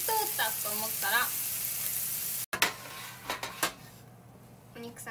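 Meat frying in hot oil in a pan gives a steady close sizzle, with a few sharp clatters of utensils and a voice speaking over it.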